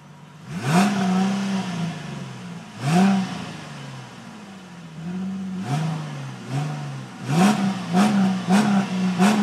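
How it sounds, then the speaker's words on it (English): A Ford Mustang engine is revved near the mufflers in a series of sharp throttle blips, each rising and falling back to a steady idle, with several quick revs packed together toward the end. "When Jamel gets behind the car, rev it."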